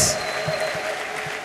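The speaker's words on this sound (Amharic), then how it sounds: "ለጌታ እልልታ ጭብጨባ እየሰጣችሁ" A church congregation in Addis Ababa claps steadily for the Lord, with a brief high ululation at the start and a faint steady tone running underneath.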